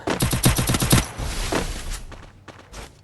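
Rapid automatic gunfire from a video game shooter, a burst of closely spaced shots followed by scattered single shots and short bursts, loud and near.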